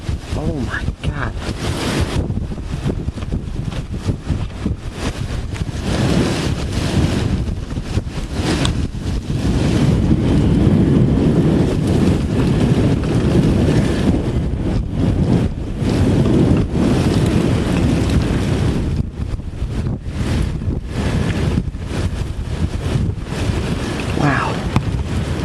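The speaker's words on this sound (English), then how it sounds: "There's a strong outflow flying through here right now." Strong thunderstorm outflow wind in Glasgow roaring in heavy, sustained gusts that buffet the microphone loudly for the whole stretch, rising and falling in rough waves, with occasional voices underneath.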